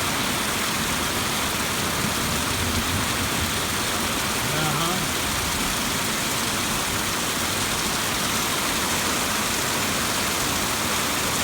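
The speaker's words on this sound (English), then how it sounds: "Yeah, this is going to be a long rain." Steady, dense rain pours down continuously, a loud broadband roar with faint voices murmuring underneath.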